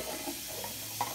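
A kitchen sink tap runs steadily while dishes are rinsed, a soft continuous hiss of water with a faint clink near the end and no talking.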